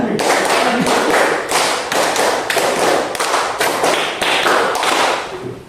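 A class claps together in a drilled five-then-three pattern, a run of loud, close clapping bursts in quick succession with brief pauses between groups.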